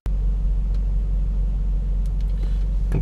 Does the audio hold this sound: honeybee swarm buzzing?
no